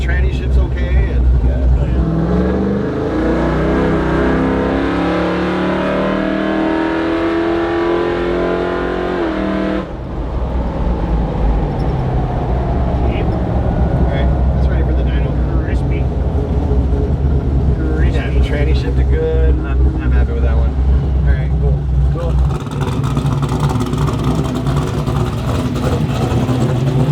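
A 572ci big block engine in a K5 revs hard on a dyno pull, climbing to a loud sustained roar, then cutting back and rising again, with voices talking over it.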